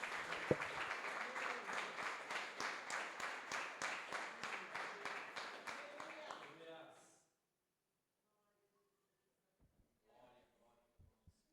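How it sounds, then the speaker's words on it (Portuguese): A church congregation claps loudly in a steady, rhythmic beat for about seven seconds during a worship service, then stops abruptly, leaving near silence with a few faint scattered sounds. "Aplauda o Senhor bem forte."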